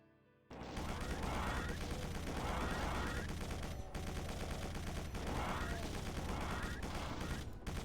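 Enemy gunfire in a Doom 2 mod from the Doom 2014 Cacowards, Resurgence: loud, repeated bursts of shots over constant game noise, starting abruptly after a quiet moment and going on throughout.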